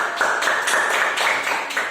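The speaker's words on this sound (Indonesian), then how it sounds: "tepuk tangan buat kelompok 1" A classroom group claps for presenting classmates, a run of quick, fairly loud, overlapping hand claps at a steady pace with no talking.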